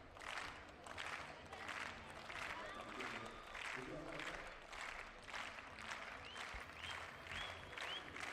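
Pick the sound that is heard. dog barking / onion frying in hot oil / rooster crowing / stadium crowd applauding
stadium crowd applauding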